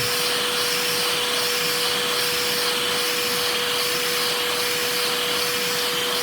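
A giant LEGO 12x12 piston vacuum engine runs slowly at about 85 RPM, with a loud, constant airy rush and a steady hum from its air supply, nearby and without pause.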